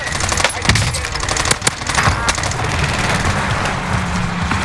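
Close, loud gunfire in the battle royale game Warzone on Caldera, a few sharp shots over dense, noisy game sound that stays busy throughout.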